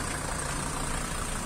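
A Mercedes Sprinter van engine idles steadily with a continuous low rumble and broad hiss, close to the listener, with no voices over it.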